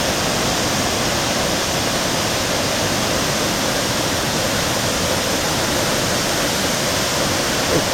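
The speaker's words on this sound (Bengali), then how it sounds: "আমরা এখন এসেছি ফ্রুট ওয়াটারফল। এই যে এইটা ফ্রুট ওয়াটারফল।" Water pours steadily down a waterfall at Cherrapunji in Meghalaya, giving a loud, unbroken roar close by with no pauses or voices.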